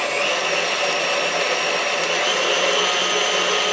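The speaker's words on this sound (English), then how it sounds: "Then I'm getting my mixer going again." An electric mixer whipping eggs into fluffy cake batter, a steady whirring drone with a bright high-pitched motor whine, continuous and close, with no talk.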